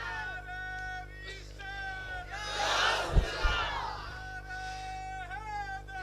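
At a religious gathering, a large crowd shouts a slogan together in a swelling roar that peaks midway and then fades, with a few sharp knocks in it. A voice leads before and after the crowd's response.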